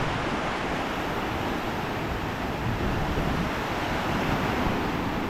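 Ocean waves wash onto a shore on Siquijor in the Philippines after a tropical storm, making a steady, dense roar of surf with wind that fills the whole stretch without a break.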